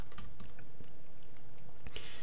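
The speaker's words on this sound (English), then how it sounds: "And just simply start typing in here" Typing on a computer keyboard while searching for a keyword, a few light, close clicks and taps in a quiet room, sparse and irregular rather than a steady run.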